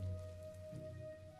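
Rain falls steadily in the survival game The Isle, a soft continuous patter under a low ambient hum with no talking.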